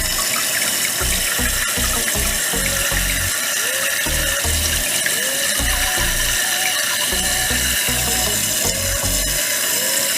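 Water rushes steadily and loudly into a refilling toilet tank, a constant hiss with low gurgling thumps running underneath throughout.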